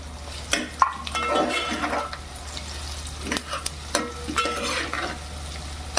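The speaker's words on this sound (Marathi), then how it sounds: "असं हलवून हलवून घ्यायचं कांदा मस्त शिजून द्यायचा" Chillies, onion and garlic frying in a pan, with a close, steady sizzle broken by repeated scraping stirs and light clinks of a spoon against the pan.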